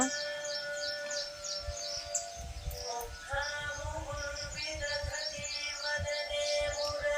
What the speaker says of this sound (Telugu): ఈ పక్షులు అరుపులు వినపడుతున్నాయి కదా